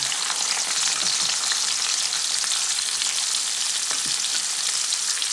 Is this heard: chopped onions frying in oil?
yes